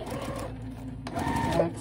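A sewing machine back stitching slippery lining fabric for a car trash bag: a short burst of rapid mechanical stitching, a brief pause, then another quick run, close and fairly quiet.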